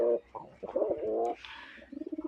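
Several close Giribaz running pigeons coo in soft, throaty, rolling calls, one after another, ending in a quick run of short pulsing coos.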